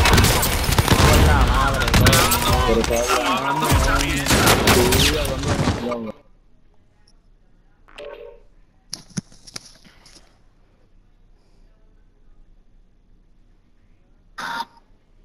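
A dense burst of rapid video game gunfire fills the first six seconds, loud and continuous, followed by quieter scattered noises and a brief spoken exclamation in Spanish.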